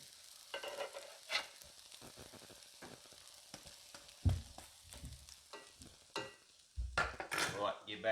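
Hash browns in a frying pan give a quiet, crackling sizzle as they are turned, with scattered scraping clicks of a utensil and a few soft thuds against the pan.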